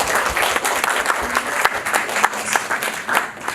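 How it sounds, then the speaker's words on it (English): An audience at a panel event applauds the invited guests, a steady wash of many hands clapping at once, fairly loud and continuous with a faint crowd murmur underneath. "please can we get a round of applause for all our special guests out here"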